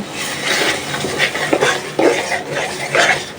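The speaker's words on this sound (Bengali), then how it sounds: "সব কিছু দিয়ে মশলাটা ভালো করে কষায় নিব" Spice paste of turmeric, chili, coriander powder, garlic, ginger and cumin paste fried with onions in a pot, with repeated scraping and stirring clatter of a spoon against the metal over a soft sizzle, close and steady.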